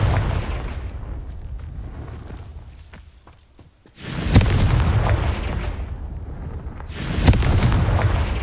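In the Hogwarts Legacy video game, a Confringo blast spell explodes in two loud, booming bursts, each swelling into a rumbling roar after a quieter lull.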